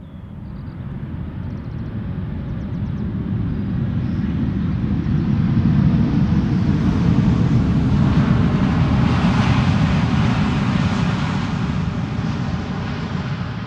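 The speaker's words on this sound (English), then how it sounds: "the next airplane after it, which is an Embraer 175 arriving from Southampton" An Embraer 175 airliner arriving at Amsterdam Schiphol Airport makes a loud, steady jet roar that swells as it approaches and passes overhead, then holds a broad rushing drone with no talk.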